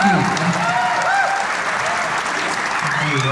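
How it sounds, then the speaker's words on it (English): An audience at a tribute concert claps steadily in sustained applause, dense and fairly loud, with a voice speaking briefly over it. "Give yourselves a big round of applause."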